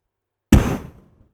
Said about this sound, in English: they kicked the door off the hinges